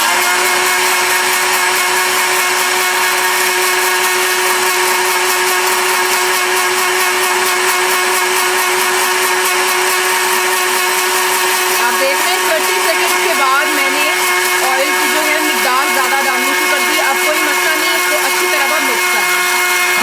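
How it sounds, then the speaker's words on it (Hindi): An electric blender grinds and mixes oil into homemade mayonnaise with a loud, continuous whirring drone throughout, and a voice talks over it in the later part. "ये चल रही मशीन आपकी ग्राइंड कर रहा है, उसको मिक्स कर रहा है एवरीथिंग को"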